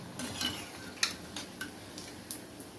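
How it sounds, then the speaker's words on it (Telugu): Dishes being washed by hand in a quiet kitchen: faint, scattered clinks and taps of pots and utensils knocking together, with no talk. "గిన్నెలు కూడా కడిగేస్తున్నాను"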